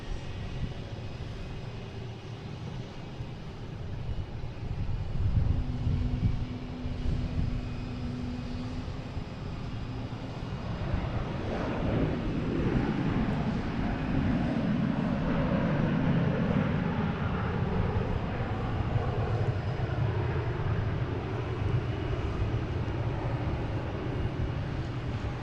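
American Airlines Boeing 737-800 from Charlotte arriving at Boston Logan, a broad jet engine roar that swells from a distant rumble to a sustained loud whine and rush, then holds steady, with no talking.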